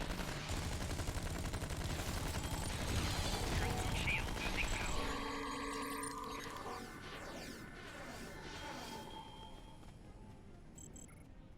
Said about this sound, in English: I'm taking fire here! Help!